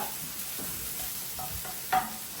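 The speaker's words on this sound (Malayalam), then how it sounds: "ജസ്റ്റ് ഒന്ന് ഇളക്കി കൊടുക്കുക." Onion and green chili being stirred in a frying pan: soft scraping strokes and a steady low sizzle, with a couple of sharper clinks of the spoon against the pan near the end.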